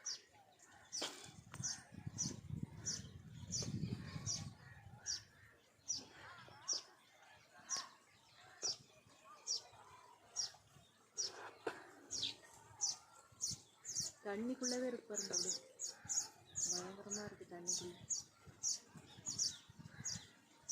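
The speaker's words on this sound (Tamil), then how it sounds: "பல விதமான குருவிகள் உட்காந்துருக்கு சத்தம் போடுது" Many small birds chirp and tweet in rapid, overlapping calls throughout around baya weaver nests, while someone talks intermittently beneath them.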